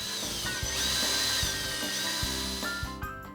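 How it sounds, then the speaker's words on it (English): A power drill whines at high speed, boring pilot holes into wood in short bursts with a few clicks and bumps between passes. "Drill pilot holes"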